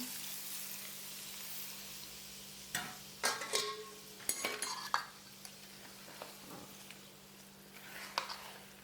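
Mango pickle mixture being stirred in oil, a faint sizzle with intermittent scraping and clinking of a spoon against the pot, no talking.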